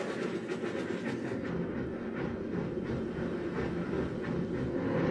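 A train rolls across a player-built bridge in the physics puzzle game Bridge It, giving a steady, close rumble with a rhythmic clickety-clack of wheels that continues throughout, with no talking.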